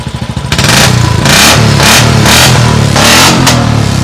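A used 2020 Royal Enfield Classic 350 BS6 motorcycle with a single-cylinder engine in good condition, recorded up close. A thumping idle breaks into loud, repeated throttle blips, with about five sharp revs in quick succession and no talking.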